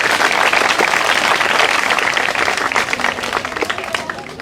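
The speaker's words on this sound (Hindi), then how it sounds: "नगर के लिए एक बार जोरदार ताली" A crowd at a village function in Karsindhu gives a loud burst of applause with dense clapping that stays strong before thinning slightly toward the end.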